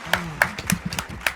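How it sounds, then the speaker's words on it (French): A few scattered hand claps from a small French game show audience, about five sharp separate claps over a second and a half, close and fairly loud, with faint talk underneath. "On peut applaudir."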